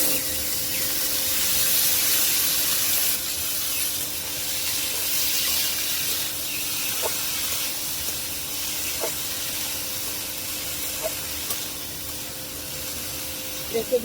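Onion fries in a pan for a Bangladeshi green bean stir-fry, giving a soft, steady hiss and spray with faint clinks, and a quiet voice talks underneath at times.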